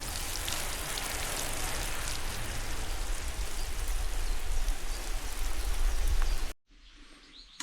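Steady rain patters on a bush shelter at a campsite, a dense continuous hiss with close drips, then cuts off abruptly near the end.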